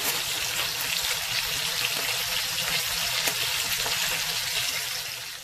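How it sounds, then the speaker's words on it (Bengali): Lamb chop frying in oil in a flat pan, a dense, even sizzle and crackle held close and loud for the whole stretch, easing slightly at the end. "এখন আমি একটা ফ্ল্যাট প্যানের মধ্যে দুই সাইডটা হালকা করে ভেজে নেব।"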